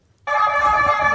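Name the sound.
siren being sounded by a man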